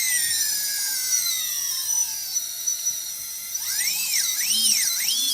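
Motors on a UBAD Inversion DX 250 quadcopter drone scream at full throttle on a test bench, a piercing high whine that sweeps down, then wobbles up and down in quick throttle pulses, loud and alone.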